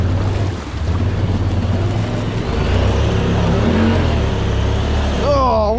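A Honda Pioneer off-road UTV engine drones loudly while churning through yard mud, a steady rough roar with splashing and wind noise, and a voice briefly audible near the end.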